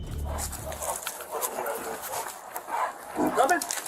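A police dog barks and whimpers amid the noise of an arrest, with short yips and bow-wows mixed under loud, urgent shouting from officers nearby.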